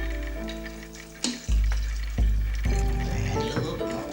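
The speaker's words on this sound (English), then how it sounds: "now I'm just going to add some water, and this is like a cup of water" A cup of water is poured into a bottle holding baking soda, giving a close, gurgling stream that starts and stops in a few pours, with rising hollow bottle resonance as it fills.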